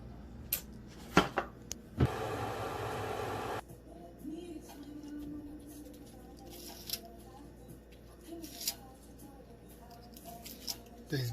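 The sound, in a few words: cutting green onions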